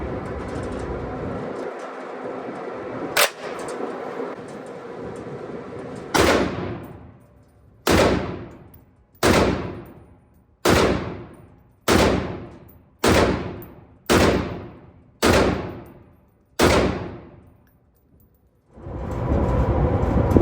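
A SCAR 17 rifle fires nine sharp shots down range at an outdoor range, spaced about a second apart. Each loud crack rolls off into a decaying echo, with no voices in between.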